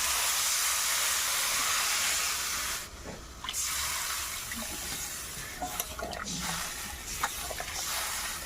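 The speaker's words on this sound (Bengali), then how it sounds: "এবারে আমি একটু জল দিয়ে দেব, দিয়ে একটু গুলে নেব" Water poured onto spiced potato curry frying in a pan, producing a loud continuous hiss and sizzle that briefly dips before bubbling steadily on with faint clicks.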